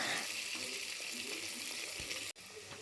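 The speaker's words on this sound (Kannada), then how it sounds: "ಈರುಳ್ಳಿನ ಚೆನ್ನಾಗಿ ಫ್ರೈ ಮಾಡ್ಕೊಬೇಕು" Chopped onions sizzle steadily in a pan for biryani, a broad crackling hiss that stays fairly even throughout with a brief dropout near the end; faint clinks and stirring noises sit underneath.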